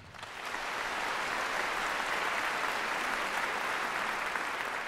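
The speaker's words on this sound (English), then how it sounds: "Let's give a round of warm applause to the conductor, Mr. Tang Muhai." Steady, sustained applause from a large concert-hall audience at the Kennedy Center, a dense wash of clapping that swells in at the start and holds evenly throughout.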